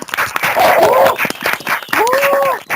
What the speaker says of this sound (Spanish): creo que se merece un grandísimo aplauso